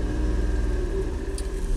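A Citroen C1 converted to LPG, set to start on petrol while cold, gives a steady low engine rumble close by that dips briefly, with no talking.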